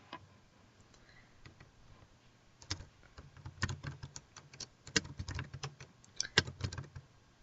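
Keys clatter on a computer keyboard as someone types in account details, quiet and close, with irregular bursts of keystrokes that grow denser and louder partway through, no voices.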